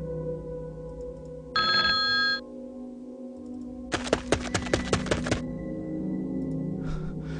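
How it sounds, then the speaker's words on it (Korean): An electronic telephone rings in two bursts, a short trill and then a longer rapid pulsing ring, with a thunk and faint room noise between. "또다시 울리는 전화벨"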